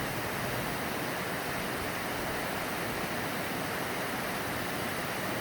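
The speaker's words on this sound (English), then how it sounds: "At 120 feet tall, it is the tallest waterfall in the Southern Appalachians." Mingo Falls, a 120-foot waterfall in the Southern Appalachians near Cherokee, North Carolina, roars as a dense, unbroken rush of falling water, loud and steady throughout with no voices.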